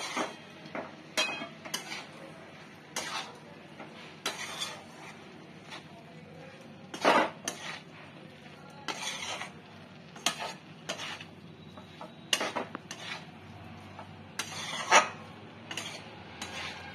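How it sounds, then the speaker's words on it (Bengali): A spoon scrapes and knocks through banana flower curry with grated coconut in a pan, making irregular clacks and rubs spaced a second or two apart over a faint, quiet background. "এবার আমি এটাকে নেড়ে নেব।"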